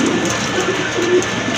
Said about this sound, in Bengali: এই যে দেখেন কতটা অ্যাক্টিভ কবুতর, অলওয়েজই কিন্তু ডাকে।